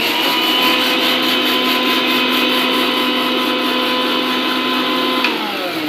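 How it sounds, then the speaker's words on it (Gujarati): A kitchen mixer grinder whirs loudly and continuously as it coarsely grinds roasted coriander seeds, a steady motor drone with a gritty rattle, slowing slightly at the end. "આવી રીતે મિક્સરમાં તેને ગ્રાઇન્ડ કરી"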